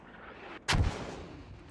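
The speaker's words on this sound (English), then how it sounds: "And the mortars now hitting more accurately." Mortar fire in a strategy video game skirmish: a single loud, sharp boom with a short decaying tail, standing out against quiet background game ambience.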